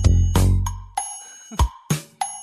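A telephone plays a sequence of ringing electronic chime tones while a call is being dialed, several separate bell-like notes in an uneven rhythm, clear and close with no voices.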